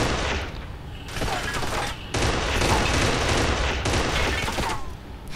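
Rapid gunfire rings out in the co-op video game Kane and Lynch 2, with dense bursts of automatic shots and booms rolling almost continuously, loud and close, briefly dipping between volleys.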